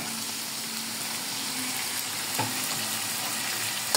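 Beef tripe callos with garlic is stirred in a pan over a steady, fairly faint frying sizzle, with a single soft scrape near the end.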